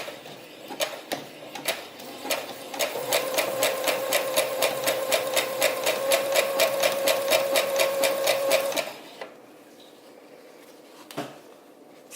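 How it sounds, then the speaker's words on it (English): A sewing machine stitches along the edge of a skirt made over from a thrifted shirt, running in a steady rhythmic whir for about six seconds, close and loud, between a few handling knocks, then stops. "I'm going to be sewing right along the edge here as well,"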